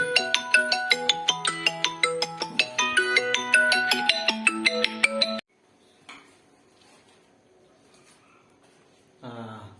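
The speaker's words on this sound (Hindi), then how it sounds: "इसका फोन आ गया।" A mobile phone ringtone plays a bright, repeating electronic melody loudly for about five seconds, then cuts off, leaving faint room noise until a voice begins at the very end.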